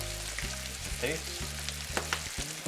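Carrots with brown sugar, cinnamon, salt and pepper sizzle in a pan while a utensil stirs and scrapes them in short, repeated strokes, close and moderately loud.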